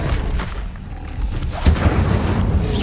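A fire spell is cast in the video game Hogwarts Legacy, giving a loud, low booming burst about two-thirds of the way through over a steady rumbling game background.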